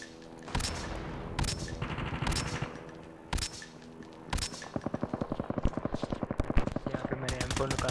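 Call of Duty Mobile gunfire: a few spaced single shots, then a rapid continuous burst of M4 automatic rifle fire, loud and sharp.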